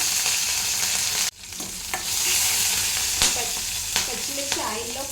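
Mustard seeds, cumin, turmeric and green chilies frying in hot oil for tomato sambar: a loud, close, steady sizzle with stirring scrapes and a brief dip early on, no voices.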